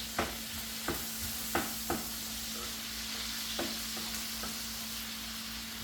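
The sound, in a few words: bacon cooking in a pan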